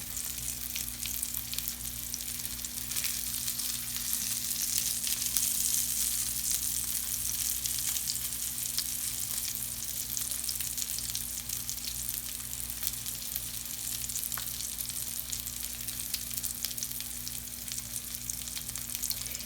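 Salmon fillets fry in a pan with a steady, even sizzle that holds for the whole stretch. A few faint ticks of movement sit beneath the hiss, and no one speaks.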